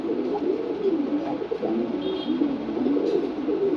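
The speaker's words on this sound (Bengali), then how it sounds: "আমার খুবই প্রিয় একটা কবুতর" A pigeon coos in low, soft, rolling phrases, close by and continuous, with no other sounds around it.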